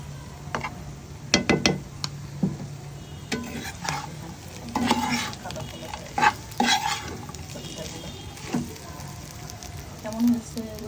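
Chopped beef liver fries in ghee in a home kitchen pan, stirred with repeated scraping strokes over a soft sizzle, irregular clatters spread across the stretch.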